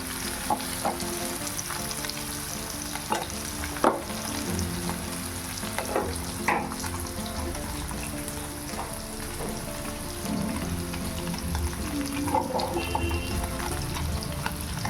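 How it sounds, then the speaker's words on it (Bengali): Gentle, continuous sizzle of paneer frying lightly in oil in a wok, with occasional spatula taps and scrapes against the pan, steady and close. "প্রথমে দেখো পনিরগুলো একটু ভেজে নিচ্ছি, খুব বেশি ভাজবো না, একদম হালকা করেই ভাজবো।"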